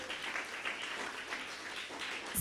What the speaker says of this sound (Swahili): tupigie wazazi wetu makofi